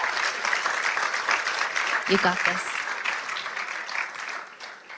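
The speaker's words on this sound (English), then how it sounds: "Come on, you guys, give her just a hand of applause" Audience applause for a woman at a faith gathering rises as a dense, steady patter of many hands, with a voice speaking briefly over it before the clapping thins toward the end.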